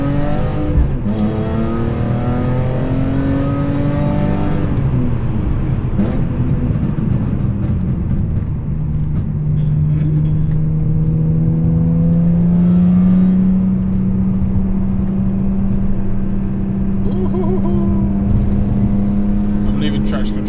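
A remapped, decatted BMW M3 with its S54 engine pulls hard on a slippery road, its loud, steady engine drone carrying clear harmonics that climb in pitch as it accelerates, heard throughout without pause.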